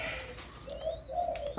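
A Malaysian spotted dove, a caged bird, gives a few soft, low cooing notes nearby, with faint chirps from other birds in the background and no talk.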